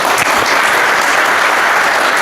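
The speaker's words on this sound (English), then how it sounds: "Could we have like one more round of applause?" Sustained, loud applause from a conference audience after a keynote at a games festival, steady dense clapping throughout with no talk over it.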